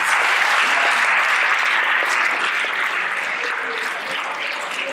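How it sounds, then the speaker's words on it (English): A school assembly crowd applauding project participants, dense steady clapping from many hands that holds for the whole stretch and eases only slightly toward the end. "round of applause for everybody involved"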